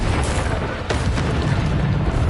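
A Bombarda explosion spell in the Hogwarts Legacy video game lands as a loud, dense boom with a sharp burst near the middle, set in continuous heavy combat rumble.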